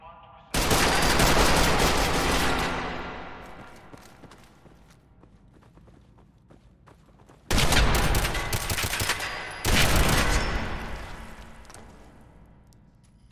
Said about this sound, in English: Combat rifle.